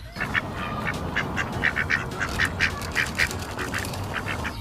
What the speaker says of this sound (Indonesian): Wih, lihat teman-teman, ada seekor bebek.